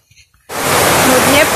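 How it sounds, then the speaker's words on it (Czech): Heavy rain on Samoa starts abruptly after a moment of quiet and continues as a loud, dense, even roar close by. "Hodně prší."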